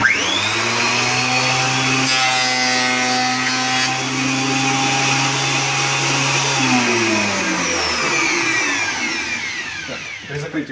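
Dnipro-M MT-33G thickness planer motor running steadily and loudly throughout, with a sustained mechanical whine and a falling pitch shift as it slows near the end.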